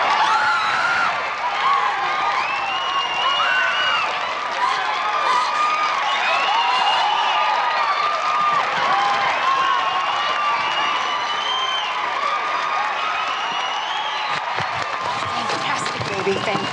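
A concert crowd cheers and applauds continuously at the end of a song, a dense wash of clapping, whoops and shouting that holds steady throughout.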